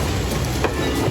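A train rolling past at the Strasburg railroad museum in Pennsylvania, a loud, close, continuous rumble of rail cars with rhythmic wheel clatter.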